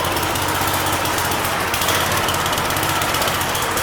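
A snowblower engine idles steadily and loudly up close, a continuous rough mechanical drone with a fast rattling pulse and no talk.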